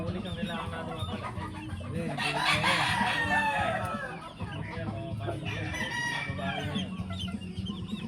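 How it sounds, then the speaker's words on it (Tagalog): Fighting cocks on a farm crow and cluck repeatedly, several birds overlapping at moderate distance with steady background noise. "Mga manok na panabong, oh."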